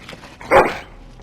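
A single sharp dog bark from the Dragon Age video game, sounding once, loud and close, over a quiet background with no talking.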